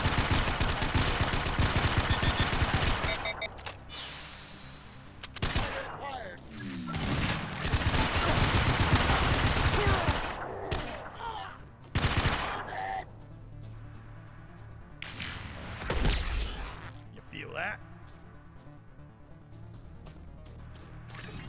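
Gunfire from the mobile shooter game Mass Effect Infiltrator comes in loud repeated bursts and rapid volleys, separated by short quieter gaps with a few sharp single shots.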